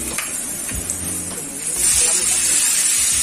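Mushrooms hit hot oil in a pan for a stew, setting off a steady hissing sizzle that swells louder partway through, close and continuous.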